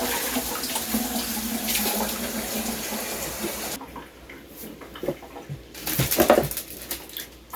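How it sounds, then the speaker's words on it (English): Juice from German red cabbage poured off a baking sheet, a steady splashing pour that runs loud for several seconds, briefly eases, then returns in a short stronger gush. "I will be dumping the juice."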